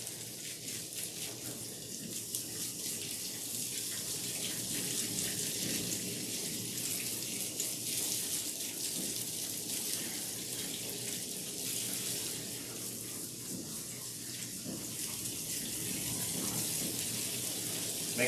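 Low-pressure water runs steadily from a tap onto a dog during a bath, a soft, even hiss that continues alone at moderate distance without talk.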